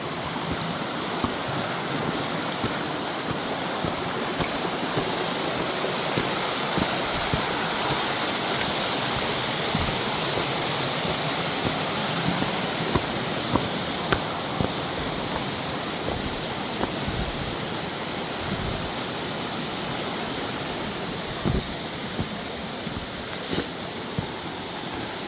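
A river flows steadily along a snowy hiking trail, its water rushing in a constant broadband wash for the whole stretch, close and fairly loud, with no talking.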